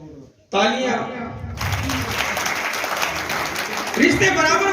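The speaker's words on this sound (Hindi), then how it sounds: "तालियां।" Audience applause at a meeting in Ludhiana: a short quiet moment, then loud, sustained clapping that rises sharply and keeps going steadily to the end, with voices mixed into the crowd noise.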